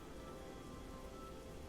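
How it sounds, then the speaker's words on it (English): Steady rain falls in the Oblivion video game, a soft continuous hiss of raindrops with no thunder, even and unbroken throughout. "It is still raining."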